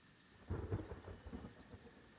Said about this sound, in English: Lightning? Didn't know that it was into the game also.